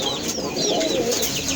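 Pigeons kept at a pigeon farm of pure white and black-and-white birds, giving soft coos and clucking calls among general bird chatter, steady and fairly close throughout with no talking.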